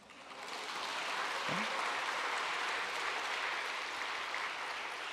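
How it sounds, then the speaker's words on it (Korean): A church congregation applauds at a midweek Wednesday prayer service, steady dense clapping that fills the room and holds for several seconds without talk. "박수 쳐 주셔야 돼요."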